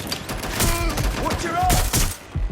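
Gunfire in the video game Watch Dogs: Legion, a dense clatter of rapid shots running through the whole moment alongside other game sounds.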